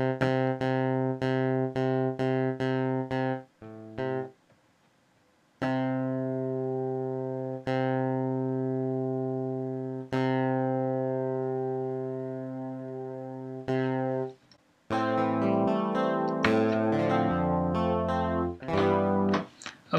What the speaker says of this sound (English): I would like an ensemble. It's a bit like a chorus effect to